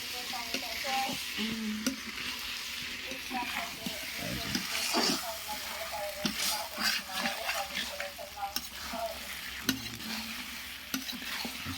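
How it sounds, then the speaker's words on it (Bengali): Duck meat stir-frying with spices in a pan for a dark braised curry, dense sizzling and frequent clattering spatula strokes, with faint voices talking in the background. "মশলা কষানো হলো এখন বতকের মাংস কষাবে"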